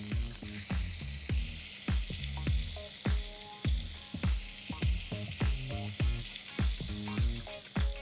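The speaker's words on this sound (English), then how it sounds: "I'm going to pan fry rest of the tofu." Tandoori tofu pan-frying, with a continuous bright sizzle and a rapid run of knocking, tapping thuds from the pan and utensil, close up and steady throughout, with no talk.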